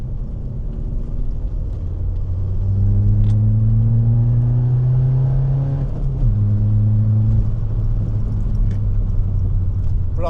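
A Skoda Fabia vRS with a 1.9 TDI diesel engine pulls hard in fourth gear, its loud, close engine drone rising steadily in pitch, dipping briefly at a shift-like break, then climbing again, with no talk.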